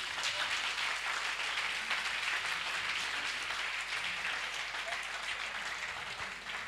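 A church congregation applauds the Lord in a sustained, dense wash of clapping from many hands, steady and moderately distant, with a voice faintly underneath.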